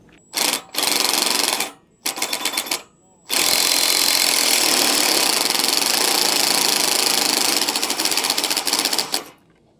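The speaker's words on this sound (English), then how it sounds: "this is a fairly long threaded rod with a nylock, so it's gonna take a while to get this screwed up here" A long threaded rod with a nylock nut being turned by a power tool during a Stromberg Carlson trailer tray installation, loud and close: two short whirring bursts, then a sustained steady buzz lasting several seconds.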